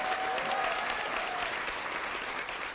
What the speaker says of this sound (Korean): 여러분 감사의 박수 부탁드리겠습니다